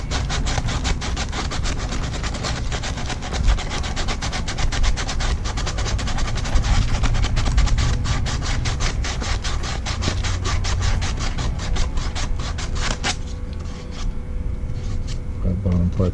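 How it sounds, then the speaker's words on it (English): A small scrap of sandpaper from a hand sander rubs back and forth on a part during a Mini Countryman R60 seat belt replacement, a steady, loud, close scratching rhythm that stops near the end. "Alright, so let's sand this down."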